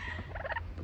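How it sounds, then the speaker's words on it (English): Birds call at Mahogany Bay, Honduras, near a pier on a shore excursion: a short burst of bright, chirping calls in the middle, over steady outdoor background noise. "Birds, guys."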